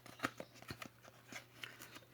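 Scissors snip a small piece off a Christmas wall decoration craft, giving a series of light, crisp clicks and cuts, close and quiet.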